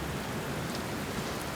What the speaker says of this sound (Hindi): ये बिन मौसम बारिश क्यों?